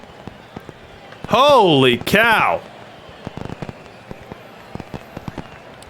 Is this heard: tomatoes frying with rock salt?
no